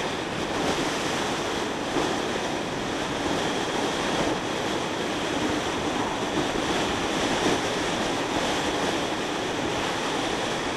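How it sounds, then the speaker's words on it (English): Loud, continuous roaring wind buffeting the microphone, steady and unbroken throughout, while riding a motorcycle fast on an open road in a crosswind. "It is a bit windy. I do have a crosswind and I'm feeling it."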